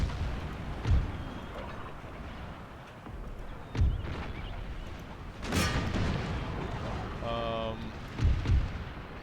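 Artillery firing into a melee in the video game Empire: Total War, with several deep booming cannon shots at irregular intervals over a rumbling battlefield din, as someone talks throughout.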